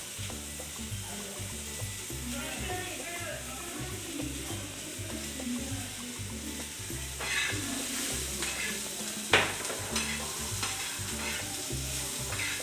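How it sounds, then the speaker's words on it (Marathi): Chopped onion sautéing in a pan for egg tawa fry, a steady close sizzle with stirring and scraping throughout, one louder clatter of the utensil against the pan partway through. "जो चिरलेला कांदा आहे तो आपण परतून घेऊया।"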